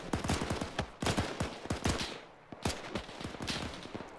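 Dense, rapid video-game gunfire with tracer rounds, a war battle of overlapping automatic bursts and sharp single cracks, loud and continuous with a brief lull midway.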